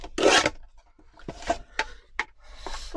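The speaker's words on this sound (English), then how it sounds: "I'll be able to chop this off with a little trimmer" A small paper trimmer slicing through paper for a junk journal, giving a short loud rasping cut followed by several quieter scraping and sliding strokes, close up with no voices.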